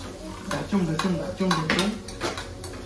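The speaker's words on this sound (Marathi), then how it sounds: "स्वतः कांदा बिंदा परतवून टाकतो आणि इकडून टाकली शिमला मिरची आणि हा टोमॅटो." Chopped onion, capsicum and tomato are stirred in a pan for Maggi, giving repeated rhythmic scraping strokes and metallic clinks of the spoon against the pan over a light sizzle, close and clear.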